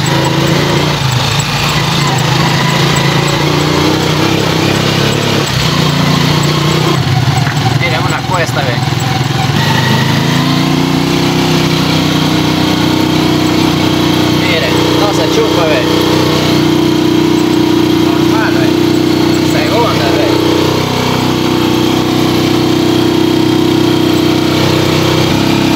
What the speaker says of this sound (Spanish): La moto no se chupa, no se aguanta, no se jalonea nada, miren.